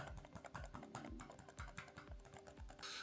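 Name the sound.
hard presses on Redbean A39R silent Bluetooth mouse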